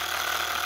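A Stirling hot air engine runs steadily while driving a small generator and a fan, a continuous close mechanical whir with light rattling and no voices.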